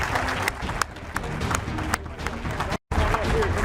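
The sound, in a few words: audience applause at retirement event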